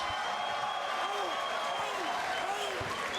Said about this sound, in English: let's have a round of applause for these 2 middleweight warriors